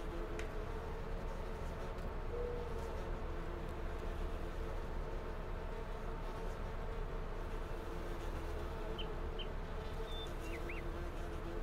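Bees buzzing around a hive in the Farming Simulator 19 game, set on a logging and apple homestead; a steady low insect drone holds for the whole stretch at moderate level, with faint chirps near the end.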